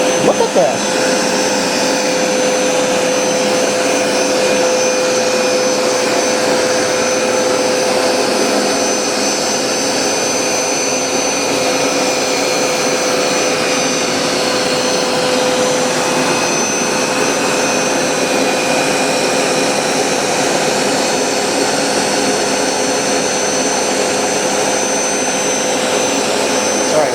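A Hoover SmartWash automatic carpet cleaner runs continuously on carpet, a loud, steady motor whine and suction roar with a constant high tone throughout, close up.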